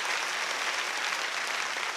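A church congregation applauds warmly during a worship service: dense, steady clapping from many hands fills the room for the whole stretch, with no voices on top.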